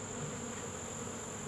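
Honeybees buzz steadily and close while a nuc is being installed, a dense continuous hum with no voices over it.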